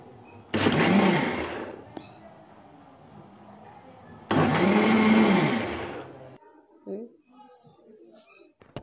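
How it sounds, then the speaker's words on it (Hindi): A mixer grinder blends lassi with sugar in two loud whirring bursts of several seconds each, separated by a pause, followed by faint kitchen clatter. "अब हम इसे ग्राइंडर में ग्राइंड कर लेंगे"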